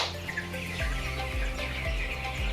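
Broiler chickens on a farm feeding at served feed and water, a dense flock chatter of soft clucks and calls over a steady low mechanical hum, with no talking.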